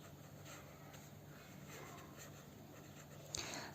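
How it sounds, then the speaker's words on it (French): A pen scratches out a handwritten word on paper in a quiet room, a faint, close, continuous scribble with small strokes and a light tap near the end. "Donc je vais écrire renouvelable."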